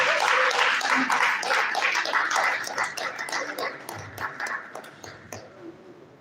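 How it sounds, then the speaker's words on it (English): Applause from an audience at an end-of-year get-together as the Dean of Life Science goes up to the high table, a dense burst of clapping that thins and fades over several seconds. "Can you give her a round of applause?"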